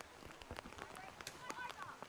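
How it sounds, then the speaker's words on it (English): Steady rain pours down at an outdoor women's rugby league carnival match, a dense hiss of drops striking the ground, with faint crowd noise and brief voices under it. "I'm gonna upgrade it from a shower to rain at this point"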